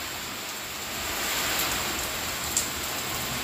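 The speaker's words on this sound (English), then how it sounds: "listening to the rain on the roof and on the patio deck" Steady rain from Hurricane Pamela in Mazatlan patters on a roof and patio deck, a dense even hiss with scattered drops and one sharper tap near the end, no voices.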